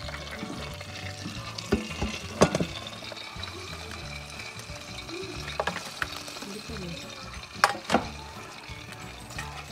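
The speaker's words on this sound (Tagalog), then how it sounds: "Parang marinig pa yung mantika." A lechon roll cooks in an air fryer, its oil sizzling as a low, steady hiss broken by a few sharp crackles and pops, with a faint murmur of voices in the background.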